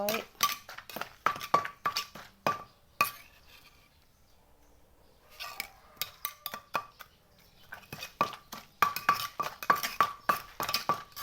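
Cucumber salad pounded in a mortar for Isan-style som tam: a steady run of sharp, close wooden thuds and clinks, pausing midway, then resuming with a quick rhythm, with a voice heard briefly between strokes.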